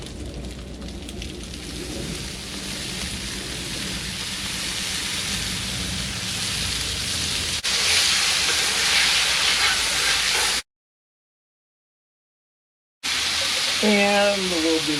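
Soy sauce sizzling on a hot teppanyaki griddle, a loud steady hiss and crackle that swells briefly, cuts out, then resumes.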